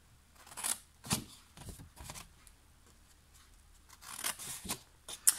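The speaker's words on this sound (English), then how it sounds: "So you just snip up the 4 lines" Scissors snip through paper in a series of quiet, crisp cuts while making a 3D gift treat box, spaced irregularly with short pauses between them.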